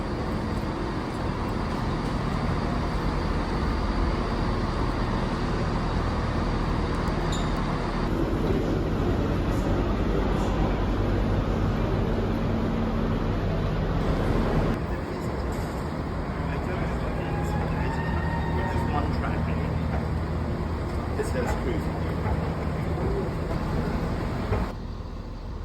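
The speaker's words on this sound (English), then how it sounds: "the trains are a little bit noisy" Noisy trains rumble past continuously near the Pennine Way by Kirk Yetholm, a loud, steady rolling roar with brief shifts in tone, while someone talks over it.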